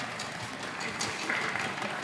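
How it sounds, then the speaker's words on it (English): Studio audience at an LEC Summer Playoffs League of Legends esports broadcast applauding, a dense, continuous wash of clapping with a few cheers, steady and fairly loud. "A big applause here, once again, also from the fans in the studio."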